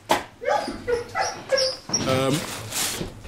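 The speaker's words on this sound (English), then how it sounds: "You're going to hear a lot of barking in a minute" Bully Kutta dogs barking and whimpering as bones are thrown over at feeding time, several close, loud barks in bursts, with someone talking among them.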